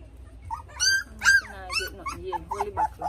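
A puppy whimpers and yips in a string of short, high, wavering cries, close and fairly loud, with a few soft sounds from people nearby.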